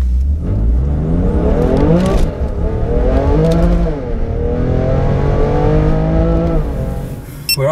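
Tuned hybrid-turbo BMW F80 M3 accelerating hard against a McLaren 570S, engine note climbing through repeated rising sweeps with brief dips at gear changes, loud and close, no talk.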